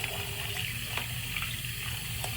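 Water pours into a bucket of splat gun ammo, making a continuous close splashing trickle that holds steady for the whole stretch.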